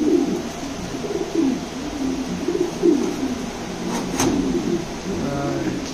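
King pigeons, a show running pair in black and white, give low, soft repeated coos close by, a steady murmuring rhythm across the clip with a brief knock partway through.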